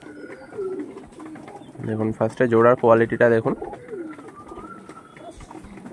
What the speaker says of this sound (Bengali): খুবই সুন্দর পায়রা